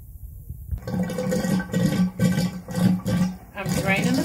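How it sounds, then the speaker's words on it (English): A jacuzzi bathtub drains, rushing and gurgling water in uneven surges close by, with a voice talking over parts of it. "I'm draining the tub"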